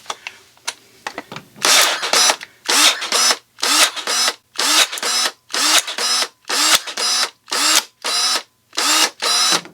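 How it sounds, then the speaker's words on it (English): Dewalt battery-powered pruning shears whir in about a dozen short, loud, close bursts with brief pauses between them while cutting a branch. "Let's try the Dewalt here."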